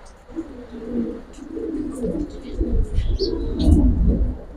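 Silver pigeons in a loft coo and murmur at close range in low rolling bursts, with a few faint chirps and some rustling movement building toward the end.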